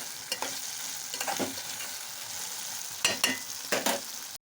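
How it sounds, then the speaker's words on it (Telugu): Sliced bitter gourd fries in hot oil with a steady close sizzle, broken by several sharp scraping bursts as the pieces are stirred and tossed in the pan. "కాకరకాయలు అయితే బాగా కలుపుకోవాలి ఒక ఫైవ్ మినిట్స్ అయితే నూనెలో బాగా వేగనివ్వాలి"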